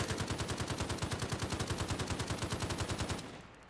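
Rapid automatic fire from a G36 rifle in Minecraft with the Just Enough Guns mod, a continuous evenly spaced burst of sharp shots at close range lasting about three seconds before cutting off into a fading tail.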